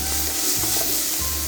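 Onion and salt cod frying in a pan while being stirred, a steady close sizzle with soft scraping strokes of the spoon running through it.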